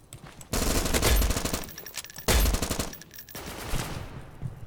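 Rapid automatic gunfire in a video game comes in two loud bursts, the first about a second and a half long and the second shorter, with quieter gaps around them.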